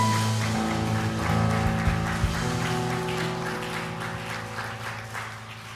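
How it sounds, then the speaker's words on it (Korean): Congregation applauding during a Sunday worship service in a church, a steady dense wash of many hands clapping together over sustained organ or keyboard tones, fairly loud and continuous throughout. "하나님 앞에 큰 박수로 영광 돌리십니다"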